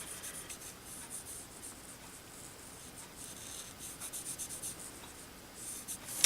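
A marker's white end rubs steadily across a card, coloring in a tree on a farmhouse Christmas card, a soft continuous scratchy writing sound, close and quiet, with no talking.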